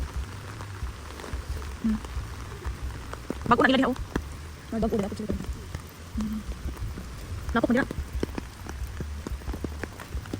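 Heavy rain pours down steadily on a hard downpour tour in Mabinay, a dense close hiss that never lets up while several people talk over it.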